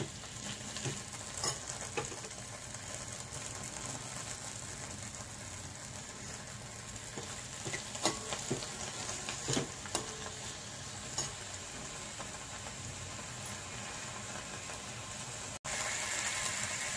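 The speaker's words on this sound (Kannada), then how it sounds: "ಈ ಎಲೆನ ತುಪ್ಪದಲ್ಲಿ ಹುರ್ಕೋತಾ ಇದ್ದೀನಿ" Elevarige leaves frying in ghee give a steady, close sizzle with occasional stirring scrapes that runs unbroken, then the sizzle stops briefly and resumes loudly right near the end.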